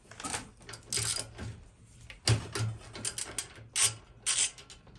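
A ratchet with a 9/16 socket turns an engine mount bolt on a Switz Cruz bike during a 4-stroke engine install, giving several short bursts of fast metallic clicking separated by brief pauses, close and fairly loud.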